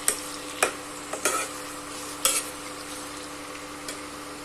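Onions and garlic frying in a pan for besan bhurji, a low continuous sizzle with a few crisp spoon scrapes spaced irregularly across it.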